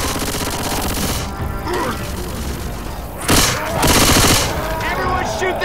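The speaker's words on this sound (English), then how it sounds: "Everyone shoot the tank!" Sustained automatic gunfire as players shoot at the Tank in Left 4 Dead 2, loud continuous rattling with heavier booming bursts, mixed with shouted player voices.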